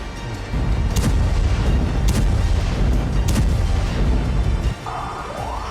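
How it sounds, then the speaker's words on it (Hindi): A bomb blast near Al-Shifa hospital in Gaza sounds as a deep, heavy rumbling roar that rolls on for several seconds with sharp cracks inside it, then drops to a quieter, steady background. "यह धमाका गाजा के अल शिफा अस्पताल से कुछ ही मीटर की दूरी पर हुआ।"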